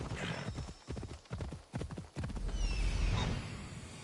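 A horse in Assassin's Creed Odyssey gallops with loud, close, rhythmic hoof clip-clops, ending in a whinny, with no talking over it.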